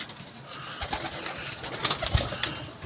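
Soft coos from racing pigeons being prepared for a derby in Bulusan, Sorsogon, a few low murmuring calls over a steady outdoor background hiss.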